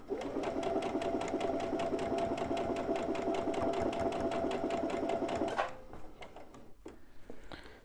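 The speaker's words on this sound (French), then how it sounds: "Je vais faire une petite couture" A sewing machine stitches ribbon scraps a millimetre or two from the edges, a fast, even mechanical chatter running close and steady for several seconds before slowing to a few separate clicks and taps.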